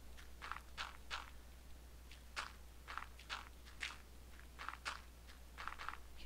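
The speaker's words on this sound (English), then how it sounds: "keep on hearing all the footsteps." Soft, evenly paced footsteps in the video game Minecraft, a string of quiet crunchy steps in a steady walking rhythm over a low constant hum.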